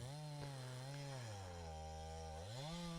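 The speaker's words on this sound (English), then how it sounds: "doing these cross cuts and slicing rounds in half is getting the sawdust material jammed in the chain" A chainsaw fitted with a skip chain cross-cuts a Douglas fir round, its engine droning loud and close at high revs, sagging briefly under load, then climbing again.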